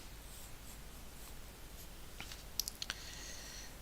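A pen or pencil moves across a surface during drawing, making faint soft scratches. Near the end come a few sharp, quick clicks or taps, and no one speaks.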